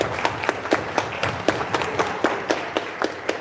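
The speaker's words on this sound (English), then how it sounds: "give Simon a round of applause" An audience applauds a chef at a culinary competition at Walnut Hill College, a moderate round of clapping with a few sharp, distinct claps standing out over the crowd.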